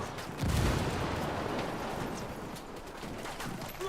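Gunfire and a frag grenade explosion in the video game Ghost Recon Wildlands: one heavy low blast, then scattered shots and rumbling combat noise crackling on through a busy battle mix.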